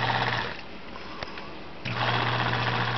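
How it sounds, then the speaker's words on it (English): A restored Toastmaster box fan motor with a scraping fault, running below full speed, gives a steady buzzing whir that drops away briefly in the middle with a faint click, then returns at full strength. "it scrapes and it doesn't run at full speed."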